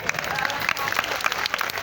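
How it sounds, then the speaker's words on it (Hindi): Devotees at a Mata Rani jagran at the Baba Bankhandi Nath temple in Bareilly clap together in a dense, steady burst of applause, with crowd voices mixed in beneath the clapping. "एक बार अगर दादा की हाजिरी अच्छी लगी तो ताली बजा दो जरा जोर से।"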